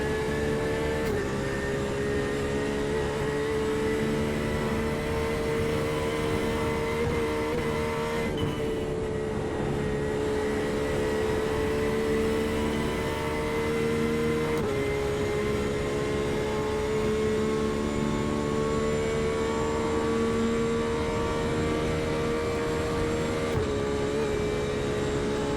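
Porsche GTE race car in iRacing on the Nürburgring Nordschleife, its engine droning loud and close for the full stretch, pitch climbing through each gear and dropping at shifts, with no talk over it.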